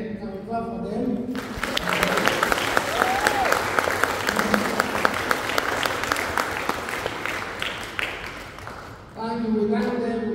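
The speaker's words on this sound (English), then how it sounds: "Can we clap for them?" Audience applause for a graduating eighth-grade class at a graduation Mass, a dense, sustained wash of clapping that rises quickly after a voice and carries on loudly for several seconds before fading as talking resumes.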